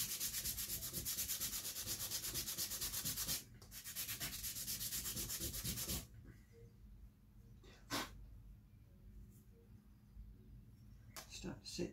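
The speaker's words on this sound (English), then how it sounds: "run it down on the sandpaper." A wooden violin bridge rubbed back and forth on sandpaper, giving rough, rasping strokes that are loud and steady for several seconds, then stop, leaving fainter scratches and brief knocks.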